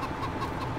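Hens in the video game Farming Simulator 19 cluck and murmur together in a dense, steady flock chatter. The burst is brief and fairly close, with no clear single call standing out.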